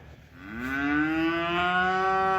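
A weaned calf on a farm lets out one long, loud, close bawl that rises and holds steady, with no talking.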